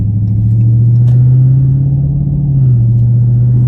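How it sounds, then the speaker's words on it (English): Deep, steady idle rumble of a Dodge Charger OctaneRed 392 engine, loud and close, holding an even low drone with a slight rise and dip midway, with no voices over it. "You can just hear that rumble, just cool, you know."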